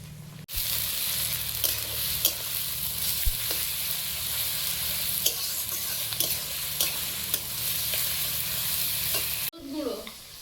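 Ginger garlic paste sizzles in a little oil in a pan, a steady close frying hiss with light stirring scrapes, lasting several seconds before cutting off abruptly near the end.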